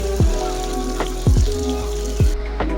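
Tilapia fish frying in a pan of oil, a steady close sizzle broken by several sharp clunks and scrapes of a utensil at uneven intervals, with no talking.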